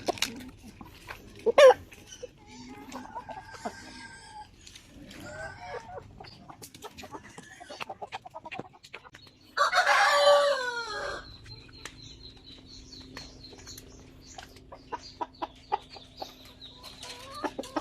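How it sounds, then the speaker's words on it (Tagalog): A rooster penned with three hens makes scattered soft clucks, then one loud crow rings out near the middle, followed by quieter clucking and a steady faint hum. "Isang rooster at tatlong hen."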